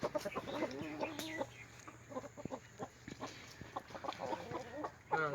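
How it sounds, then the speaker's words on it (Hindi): A rooster clucks and calls repeatedly in bursts after a grey partridge chases it off, close and fairly loud against outdoor farmyard noise. "सील मुर्गे को भगा दिया यार"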